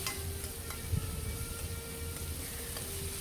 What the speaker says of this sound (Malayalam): ഡീപ്പ് ഫ്രൈ ആവണമെന്നില്ല, ജസ്റ്റ് ഒരു ഷാലോ ഫ്രൈ മതി.